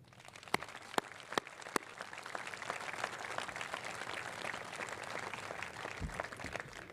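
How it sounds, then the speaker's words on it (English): A crowd at a 25th Infantry Division change of command ceremony on a parade field applauds steadily and evenly for the full stretch, with a few sharper individual claps standing out near the start, no voices over it. "please join me in a round of applause for all that is right and good in our nation"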